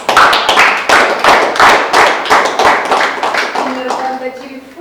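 An audience claps at a Rwandan film event, loud, dense applause in rhythmic bursts that fades toward the end, with some voices mixed in.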